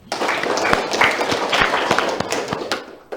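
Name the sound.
studio audience clapping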